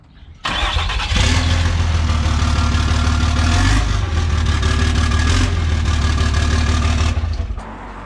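A 5.9 Cummins diesel fired up with only the downpipe fitted, cranking briefly then roaring into a loud, raw idle that holds steady before cutting off near the end.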